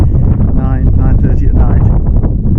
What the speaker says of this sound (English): Quite windy, so I hope this comes out.